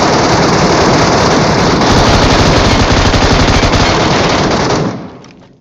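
Automatic gunfire in PUBG Mobile's Metro Royale mode rattles as one long, very loud, rapid burst lasting nearly five seconds, then falls quickly away, with no talking.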